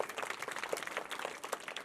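An audience applauds performers at an annual function, the clapping faint, scattered and distant.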